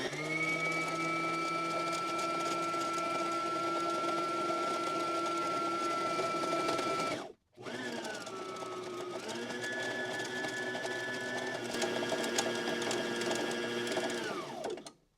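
A sewing machine hums loudly and steadily while winding thread onto a bobbin, breaking off briefly midway, then resuming with a shifting pitch before winding down at the end.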